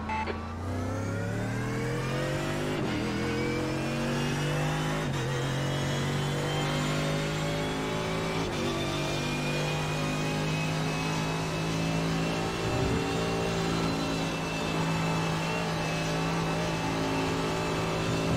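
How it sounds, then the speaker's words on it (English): A Mercedes-AMG GT3 race car engine in iRacing at Spa roars steadily, revving up and shifting gears with a sustained, loud mechanical drone throughout. "that Mercedes really has a nice sound. Sounds so powerful."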